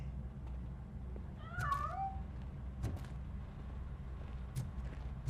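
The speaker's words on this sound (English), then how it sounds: "That cat must be hiding inside." A cat meows once in a video game, a clear mid-distance call over a low steady background hum, followed by a few faint clicks and no speech.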